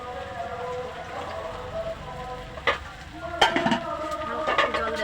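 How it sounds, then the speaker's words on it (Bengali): Hot water added to a pointed gourd curry in a frying pan, a constant sizzle and hiss with a few sharp splashy crackles near the end, close and unbroken by speech. "এখন একটু জল দিয়ে দিতে হবে, গরম জল"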